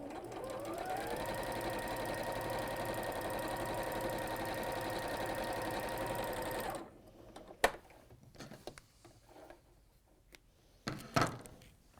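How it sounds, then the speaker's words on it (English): A sewing machine runs a quarter inch seam through quilting precuts, whirring in a steady close run for about seven seconds before stopping, followed by a few faint handling clicks and taps. "you're going to stitch those down"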